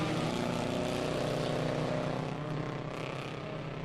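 A pack of 360 ministock race cars roars off the green flag at the start of a qualifying heat on a dirt oval, with engines blending into a loud, dense, steady drone at a distance.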